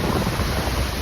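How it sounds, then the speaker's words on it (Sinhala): Steady rushing water fills the scene, a broad continuous wash of flow with no voices, close and fairly loud. "අපි මේ මැදින් යද්දි දෙපැත්තෙන්ම වතුර එනවා."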